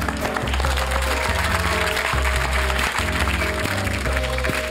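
A studio audience applauds steadily, a dense wash of many hands clapping with no break, fairly loud and continuous throughout.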